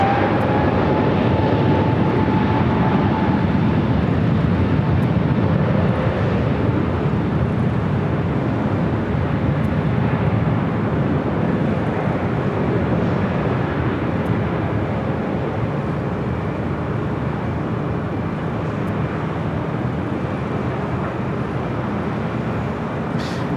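A Delta jet takes off from runway 24 left at LAX, a loud continuous broadband engine roar that holds steady throughout with a slight fade toward the end.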